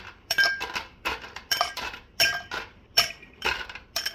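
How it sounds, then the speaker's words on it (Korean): Ice cubes clinking and rattling into a pilsner glass to chill it for a virgin fruit punch, a rapid series of bright close clinks about every half second, no voice. "잔은 필스너 글라스 얼음 칠링"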